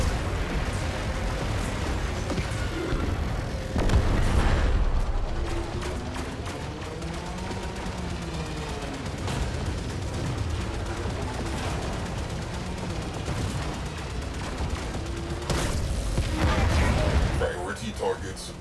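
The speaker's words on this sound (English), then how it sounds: "We need heavy ordnance. Fire torpedoes." Torpedoes firing and exploding in the video game Warframe, a dense continuous barrage of booms and rumbling blasts with heavier bursts near the start and end, under game voices and talk.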